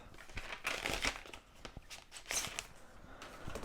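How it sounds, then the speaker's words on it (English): Thin plastic protective cover crinkling and rustling as it is peeled off an Apple Magic Keyboard 2, a close, quiet run of crackles in two fuller bursts with no talking. "So let's just take this, take this cover off."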